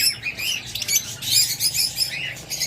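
A pair of close-ringed opaline pet birds chirp rapidly and continuously, producing bright, fairly close twittering with a soft fluttering patter beneath.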